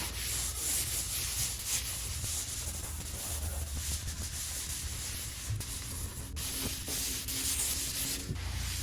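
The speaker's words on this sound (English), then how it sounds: "Between each coat, I buff it down with a green Scotch-Brite pad, clean off the sanding dust," A green Scotch-Brite pad buffs a shellac finish on a wooden tabletop between coats, producing a steady, close scratchy rubbing that continues without pause.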